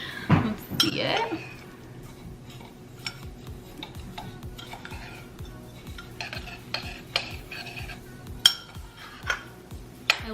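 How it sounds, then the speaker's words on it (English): A spoon scrapes and clinks around a bowl while coffee body scrub ingredients are stirred together, giving a steady run of close, rhythmic stirring taps with occasional louder clinks. "I'm gonna give it a little mix."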